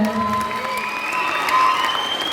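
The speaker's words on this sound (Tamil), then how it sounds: "டாக்டர் அரவிந்த் சாருக்கு ஒரு பெரிய கைத்தட்டல் கொடுங்க முதல்ல" Audience applause at a Tamil motivational speaking event, steady broadband clapping mixed with crowd noise and a few cheers, fairly loud and continuous throughout, with faint tonal sounds running underneath.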